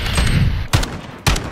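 Single-shot gunfire in the video game Modern Warfare: three loud, sharp, close reports spaced evenly about half a second apart, each with a short ringing tail and no voices over them.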